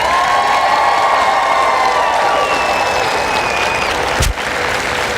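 A loud, continuous round of applause and cheering from a crowd at a Women's March rally in Roanoke, dense clapping sustained throughout with a brief dip near the end.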